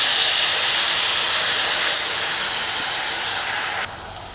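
Soaked tamarind juice poured into a hot pan of bitter gourd palya: a loud, broad, steady sizzling hiss that holds for several seconds, then abruptly drops away, with no speech.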